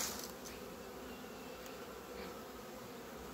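Honeybees buzzing in an opened hive of local black bees, a continuous, even drone close by with no talk.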